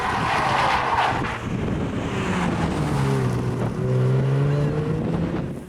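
An Aston Martin Vantage driven hard on a Targa New Zealand rally stage, its engine note rising and falling through gear changes under heavy wind buffeting, loud and continuous.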